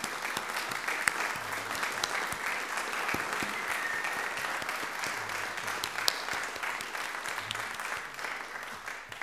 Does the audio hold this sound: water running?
no